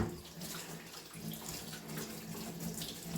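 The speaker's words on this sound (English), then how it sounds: "Just running some water through that." Water runs steadily from a tap over small vacuum cleaner parts being rinsed in a sink, a constant close hiss and splash with no talking.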